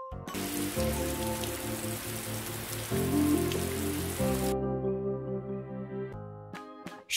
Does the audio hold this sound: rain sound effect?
yes